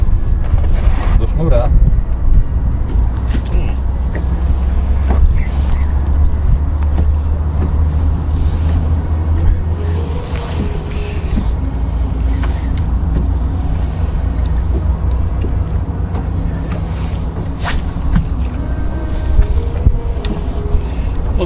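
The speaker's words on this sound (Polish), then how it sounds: "wiatr się dosyć niewygodnie rzuca" Steady wind buffets the microphone with a low roaring rumble throughout, while voices talk faintly and an engine hums in the background.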